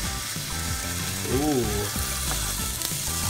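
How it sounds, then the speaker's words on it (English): Bacon strips sizzling and crackling steadily in a hot pan, a dense continuous frying hiss close by, with a brief exclamation from a voice partway through. "There's the sizzle."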